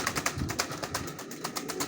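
Racing pigeons in a pigeon loft, soft throaty cooing repeating in low rolling pulses, fairly quiet and close, with no talk over it.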